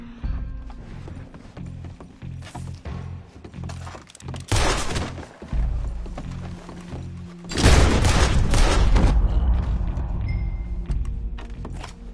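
Pistol shots in Red Dead Redemption 2, several sharp cracks and clattering bursts over a mechanical rumble with hoof-like clopping, loud and close, with no talking.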